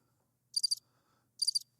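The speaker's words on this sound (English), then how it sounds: "Where's the crickets now?" Two short bursts of cricket chirping, each a quick triple pulse, spaced about a second apart in an otherwise quiet scene.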